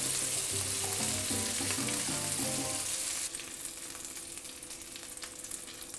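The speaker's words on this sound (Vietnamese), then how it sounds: "Mình chiên sơ sơ như vậy được rồi đó các bạn." Shrimp meatballs sizzle steadily as they fry in oil in a pan, with a few faint stirring clinks early on, and the frying hiss stays loud throughout; no talking.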